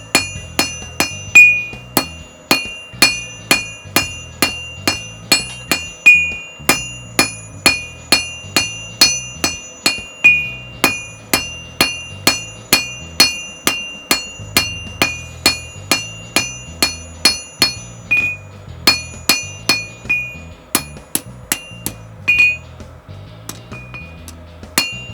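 A hammer strikes hot steel while a nose punch taper is forged thinner, with dozens of sharp, ringing metallic blows in quick bursts, each separated by short pauses, loud and close.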